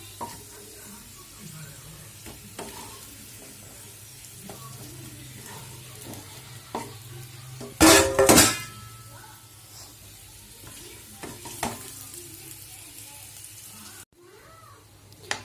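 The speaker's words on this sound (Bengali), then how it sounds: "তেলের মধ্যে শুকনো লঙ্কা, তেজপাতা, গোটা এলাচ, লবঙ্গ এগুলো ফোড়ন দেওয়া হয়েছে।" Dry chillies, bay leaf, whole cardamom and cloves sizzle softly in hot oil amid stirring clinks, with a loud burst of crackle around the middle and a cat-like meow nearby.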